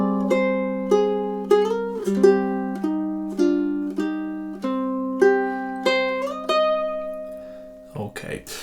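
A ukulele plays the opening measures of a love theme, starting with three pickup notes. Clear plucked single-note melody over a sustained low note, about a dozen ringing notes at an even pace, then a brief shuffle at the end.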